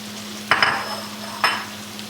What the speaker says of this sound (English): just mix it up real quick